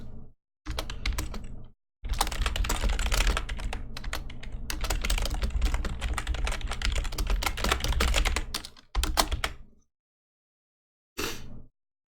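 Steady, fast clatter of typing on a computer keyboard, close and loud, running in continuous bursts with short pauses and a final brief flurry after a gap, with no voices.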